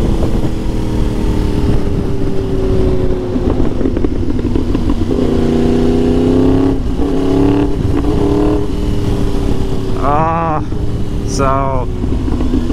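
A Yamaha R1 motorcycle engine drones loudly and steadily while riding twisty roads, shifting pitch as it accelerates, with wind rush throughout. A rider speaks over it in places.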